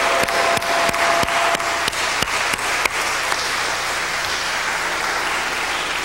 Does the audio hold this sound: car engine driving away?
no